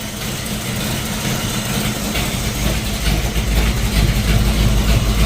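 A Ford Falcon XB GS hardtop's engine runs steadily, slightly rich, while its cooling fan blows hard. A constant low rumble carries a broadband fan rush that grows louder toward the end, with no talk.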